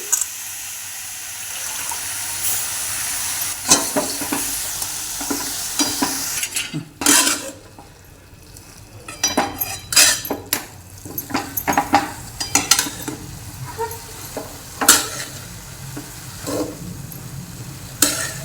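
Shepu (dill) greens with moong are stirred in a pan, the spoon scraping and clattering against the metal in uneven bursts over a soft sizzle, with a brief quieter pause partway through.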